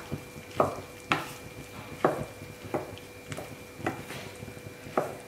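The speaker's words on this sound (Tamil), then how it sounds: "கொஞ்சம் தண்ணி ஊற்றியும் மிக்ஸ் பண்ணி ஊற்றிடலாம்" A Chettinad-style white vegetable kurma is stirred in a pan after ground masala and a little water go in, with sharp, evenly spaced scraping strokes of a spoon against the pan about every half second to second.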